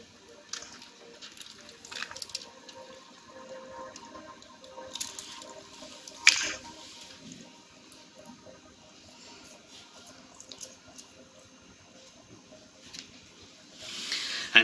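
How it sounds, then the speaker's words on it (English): Icy cold water is poured in a soft, trickling stream with faint splashes and drips. The sound is quiet and close, with a brief louder clink partway through and another near the end. "I am going to pour water in it. A water should be icy cold water."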